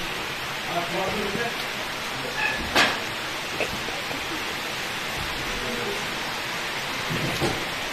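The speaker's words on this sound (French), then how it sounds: "Il s'est mis à pleuvoir et tout." Steady rain hissing on surfaces outdoors during horse jumping training, with a few louder patters and faint voices in the background.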